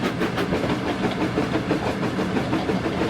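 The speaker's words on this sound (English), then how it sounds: "Instead of nice shining coaches, he was pulling a dirty freight train." A steam engine in the Trainz video game hauls a freight train, giving a loud, continuous rumble with a regular rhythmic chuffing and clatter throughout and no talking over it.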